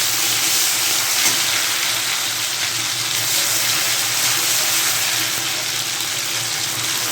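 Spice pastes such as cumin paste fry in hot oil for a potato, capsicum and egg dish, giving a steady, close, hissing sizzle that stays even and unbroken, with no talking over it.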